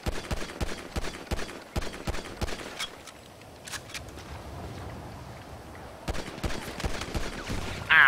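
Rapid bursts of AP pistol fire in Grand Theft Auto at the pier, sharp cracks in quick clusters with a quieter gap midway before another volley, fairly close and loud.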